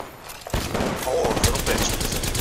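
Rapid gunfire in Apex Legends, a loud continuous volley of shots after a brief quiet start, with rattling bursts layered close together.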